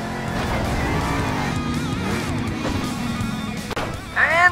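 A monster truck in the Monster Jam Steel Titans video game roars with a steady engine drone, then crashes with a brief thump and clatter near the end.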